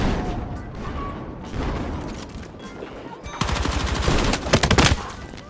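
Gunfire from the Call of Duty game, with a shotgun firing slugs; heavy booming shots and rapid bursts crowd together, loudest and densest in the second half.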